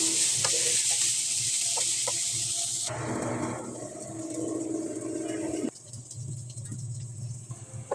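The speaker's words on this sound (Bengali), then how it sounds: "একটা প্যানে পেঁয়াজ কুচি দিয়ে দিলাম নেড়ে চেড়ে ব্রাউন করে নিচ্ছি পেঁয়াজটা" Chopped onions frying in a pan, a constant bright sizzle with the scrape and rattle of stirring, shifting as the pan is moved and the heat settles lower.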